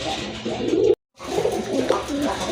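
Domestic pigeons for sale, including a brown-necked one, coo steadily and loudly up close, a dense, continuous warbling with one brief drop-out near the start.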